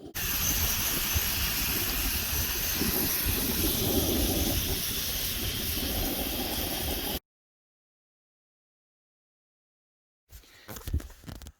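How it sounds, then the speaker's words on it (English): A heater runs with a steady, loud hiss inside a hunting shack in freezing northern Maine, then cuts to silence before a short burst of noise returns near the end. "We got the heater going"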